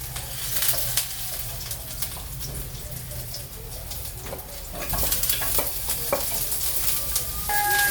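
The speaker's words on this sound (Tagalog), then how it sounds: "Ato na ihulog ang ahos." Garlic hits hot cooking oil for a simple breakfast and sizzles steadily, with some stirring and scraping and faint bird coos in the background.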